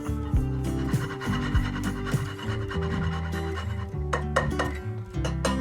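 Whole nutmeg is rubbed over a hand grater in a home kitchen, making quick rasping strokes in a steady rhythm, close and fairly loud, with light clinks and kitchen background noise.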